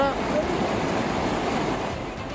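Surging floodwater after a landslide in Peru, a loud, unbroken roar of rushing water and churning waves, steady and close throughout with a windy rumble.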